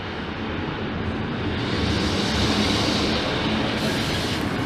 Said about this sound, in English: Pulling in now, 153357.